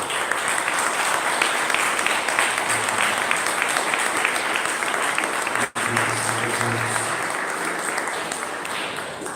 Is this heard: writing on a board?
no